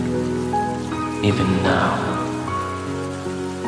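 Rain falls steadily on a surface, a soft continuous patter with a brief louder burst in the middle, heard beneath a voice speaking over gentle music.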